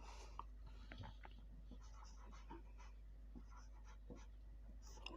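A pen scratches out a solution on paper for a Class 10 exam maths problem, with faint intermittent strokes and scribbles, close and quiet, no talk.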